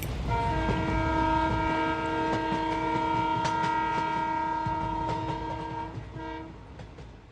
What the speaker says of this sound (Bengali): ঠিক তখনই একটা মালগাড়ি এগিয়ে আসে দুরন্ত গতিতে